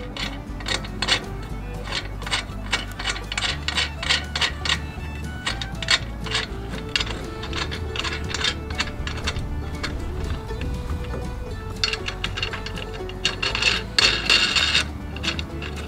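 Metal lug nuts are threaded onto the studs of a boat trailer's spare tire carrier, giving repeated close scraping, rasping turns in short bursts with small metallic clicks.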